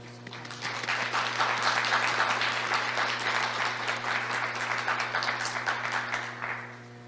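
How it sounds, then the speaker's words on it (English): Sustained audience applause at an international law conference, a dense steady wash of clapping that rises quickly, holds for several seconds, then tapers away, with a low electrical hum underneath. "please greet him with a big round of applause"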